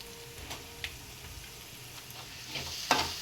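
Masala paste for a fish curry hisses and sizzles in a hot pan, a steady close frying crackle with a few stirring scrapes and a sharper burst near the end.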